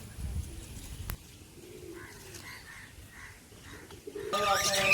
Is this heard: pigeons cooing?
yes